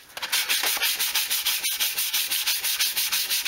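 Body filler on a Stratocaster guitar body sanded flat with a sanding block, a loud close rasping in a fast, even back-and-forth rhythm of about six strokes per second.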